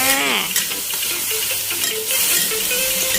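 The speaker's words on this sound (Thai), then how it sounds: "ผัดต่อไปอีกนะคะ" Eggplant and holy basil being stir-fried in a pan with a splash of mortar rinse water, a loud close hiss of frying under continuous scraping and stirring, with no speech.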